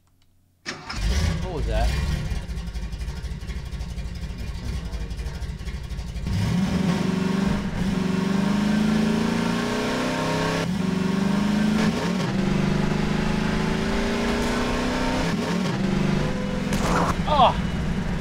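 Car engine in the video game Garry's Mod cranks and starts, then runs steadily as the car drives off, loud and continuous with occasional thumps, while someone talks over it.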